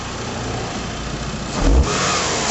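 A 2001 Mitsubishi Galant engine, just after an air filter change and throttle body cleaning, revs up briefly and then settles back to a steady idle without hunting. It is heard close up with no talk.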